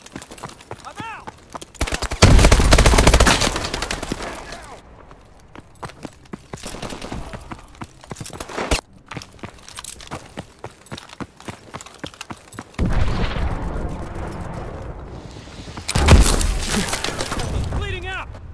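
Heavy suppressive gunfire in Call of Duty: Advanced Warfare, loud automatic bursts and rattling volleys that swell, drop off and surge again, with shattering impacts and shouted voices mixed in.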